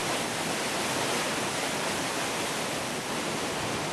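Water of the Soffia stream tumbles down a waterfall in the Belluno and Treviso Prealps, a dense, continuous roar that stays even and close throughout.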